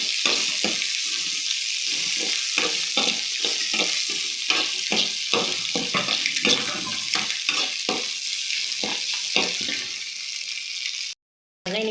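Egg fries with rice in a pan for village-style egg fried rice, a loud close sizzle broken by repeated rhythmic stirring scrapes that stop abruptly near the end.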